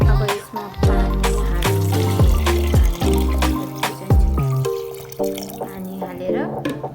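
Water is poured into a cooking pot of spiced Himalayan falgi with cumin, garam masala and salt, a loud close splashing stream with clanks of the vessel running throughout.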